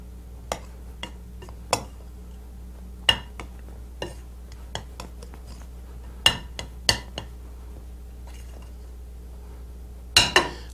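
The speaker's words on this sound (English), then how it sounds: "let's very, very quickly, with a spoon, mix this up" A spoon clinks against a bowl while mixing milk and nutmeg, scattered sharp taps at irregular intervals with a brief double clink near the end, close and fairly quiet over a soft steady background hum.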